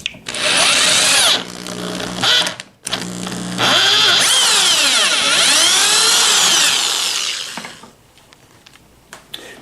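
A power drill cuts through a metal guitar bridge and into the wood beneath, a loud close whine that briefly stops, restarts with a pitch sweeping up and down as it bites, then winds down to quiet clatter.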